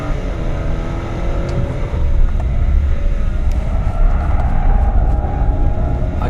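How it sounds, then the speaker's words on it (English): A BMW 7 Series with xDrive and Autobahn Package driven hard up a steep crest, a loud continuous engine drone with rising pitch and dense road roar from inside the cabin. "This is a 7 Series, and I am flogging it around like it's a 3 and really enjoying it."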